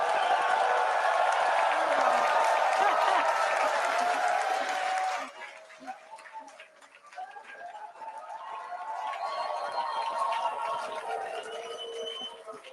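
Crowd at Starbase, Texas, awaiting SpaceX's seventh Starship test flight, a loud sustained roar of cheering for about five seconds that drops away to scattered distant voices and murmur.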